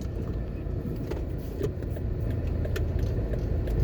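A car drives through a large residential neighbourhood of expensive homes in Cherry Gardens, Jamaica, its steady engine and road rumble heard from inside the car with faint clicks and rattles.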